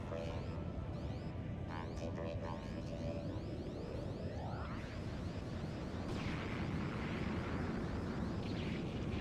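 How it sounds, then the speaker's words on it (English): Explosions in the shoot-'em-up game Ikaruga rumble as a continuous, dense low roar with bursts of crackling noise, a synthetic sweep rising and falling midway, loud and sustained throughout. "heroic explosions"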